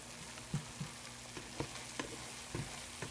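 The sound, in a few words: sandwich cooking in a pan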